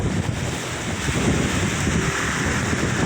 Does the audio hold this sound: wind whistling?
yes